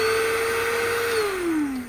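Hyundai HABT-9430 coffee grinder motor whirring at a steady high pitch, close and loud, then winding down in pitch near the end.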